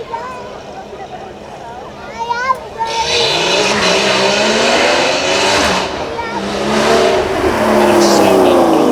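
The 3.4-litre flat-six engine of a Porsche GT4 race car at a supercar weekend revs loudly after a quieter start, with changing pitch and voices audible beneath it.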